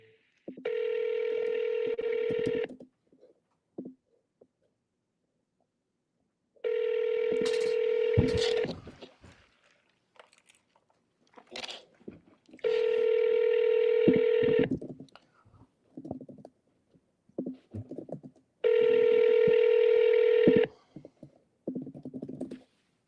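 A phone call to a voter rings out: four evenly spaced ringback tones of about two seconds each, separated by pauses with faint clicks and murmurs.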